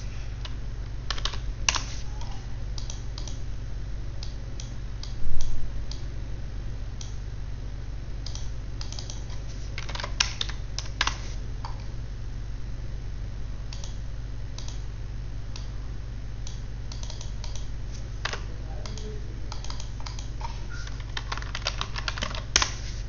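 Computer keys click in irregular bursts throughout, with occasional sharper taps from keyboard shortcuts, close and fairly quiet over a steady low electrical hum, with no talking.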